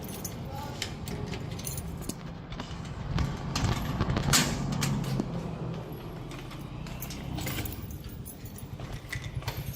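Keys jangle repeatedly in the clip's mid and upper range, set against a constant low street or traffic rumble outdoors, with no speech.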